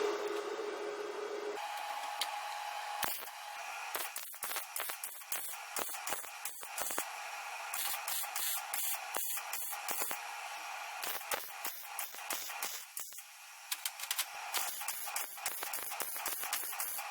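Arc welding on a homemade welder's third-hand build gives a steady crackling, sputtering buzz. It breaks into a run of short bursts with clicks and pauses between the welds.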